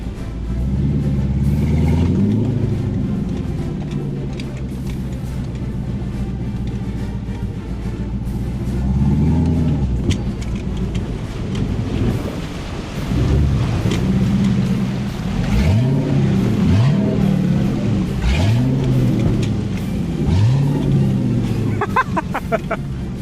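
A loud V8 engine in a Porsche 944 rumbles steadily as the car pushes through water, the exhaust cutout going underwater and quieting it, with revs rising and falling in sweeping surges; a voice speaks occasionally.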